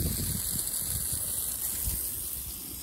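Steady hiss of water spraying onto freshly laid Kurapia sod, a continuous close gush with no breaks.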